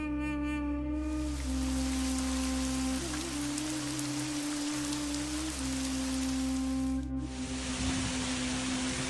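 Rain falling as a steady, dense hiss of drops on a surface, heard alone and at moderate level, with a low tonal drone running underneath throughout.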